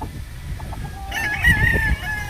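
A grey gamefowl rooster crows once up close, a loud drawn-out cock-a-doodle-doo rising over background clucking and farmyard noise, after a moment of quieter ambience.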